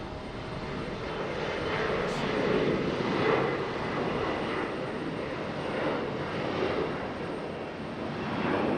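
An airplane departs from Raleigh-Durham International Airport, heard as a steady, broad engine roar from a distance that swells and eases slightly throughout, with no talking.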